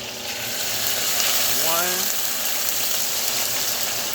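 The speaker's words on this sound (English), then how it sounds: "So what we're gonna do is add some bourbon in. I got some Jim Beam." Jim Beam bourbon splashes into a hot pan of cooked garlic and ginger, setting off a loud, steady sizzle that swells briefly as the liquid hits and keeps hissing throughout.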